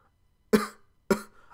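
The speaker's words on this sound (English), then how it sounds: "I've been coughing and sneezing" Two separate coughs from a person sick with flu, close and sharp, spaced about half a second apart in an otherwise quiet room.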